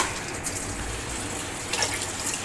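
Water pours steadily into a pot of overnight-soaked chickpeas, a continuous close gushing splash with a brief surge near the end, no voices.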